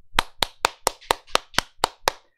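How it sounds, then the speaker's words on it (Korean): Nine sharp, evenly spaced hand claps ring out in a steady rhythm, close and fairly loud, with no voices. "박수!"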